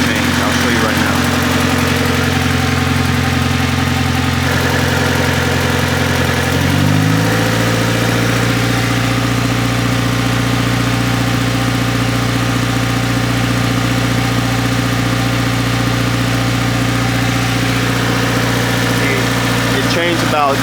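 A Honda car engine cranks and starts, then settles into a steady, loud idle with a continuous low hum, heard close up during fuel system work.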